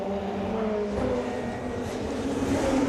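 Touring cars racing at Pau in the 2007 World Touring Car Championship, Chevrolet and BMW entries, engines droning steadily and loudly with sustained revving tones throughout, no clear break in the roar.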